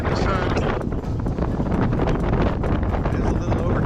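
Steady, loud wind roaring and buffeting across an open deck of the cruise ship Norwegian Pearl, a constant broadband rush with occasional gusty thumps and no talk.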